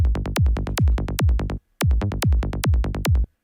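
A psytrance synth bass plays a rapid, evenly pulsing line against a punchy kick that jumps by a plain octave, with a brief gap midway before the rolling pattern resumes, loud and alone.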